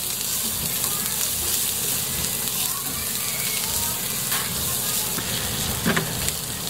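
Chopped onions and plenty of garlic sauté in a hot pan for a ginataan dish, giving a steady, close sizzle and crackle throughout with faint stirring, no talking.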